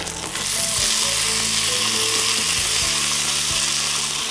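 Green chilies, potatoes and sausage frying in a pan as they are stirred together, a loud steady sizzle with faint low hum underneath, close and continuous.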